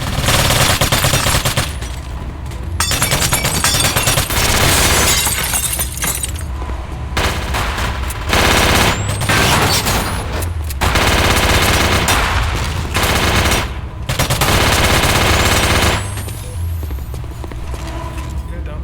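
Heavy gunfire exchange in the video game Warzone, with sustained loud automatic bursts and overlapping shots in long stretches separated by brief pauses, and voices talking over the action.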